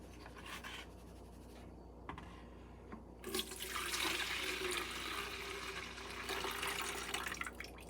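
Water and silt from French Gulch paydirt in Breckenridge are poured off a gold pan. A steady close sloshing rush swells louder partway through and continues without speech.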